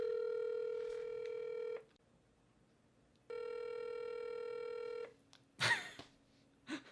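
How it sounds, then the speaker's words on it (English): A phone call to a radio station's studio line rings out as two long, clear ringback tones separated by a pause, then a few brief handling clicks and rustles close by. "Okay, I am calling Kiss FM's studio line."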